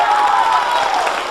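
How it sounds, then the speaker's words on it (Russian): A concert audience applauds in a short, dense burst of clapping and crowd noise, fairly loud and sustained across the moment. "Еще раз аплодисменты!"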